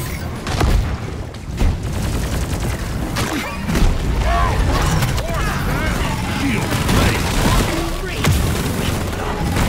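Weapon fire from a Deep Rock Galactic co-op mining mission against a swarm, dense bursts and booms overlapping continuously at steady loudness through the whole stretch, with busy game effects mixed in.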